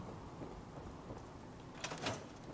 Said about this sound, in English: No, it's just raining.